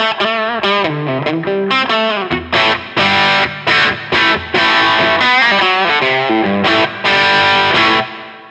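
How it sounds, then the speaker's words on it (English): Electric guitar with humbucker and P90 pickups played through a Wampler Germanium Tumnus overdrive pedal, loud and close: a quick melodic phrase of overdriven single notes and short chord stabs with brief gaps, no talking. "So here's how this sounds with some Humbucker and P90 tones."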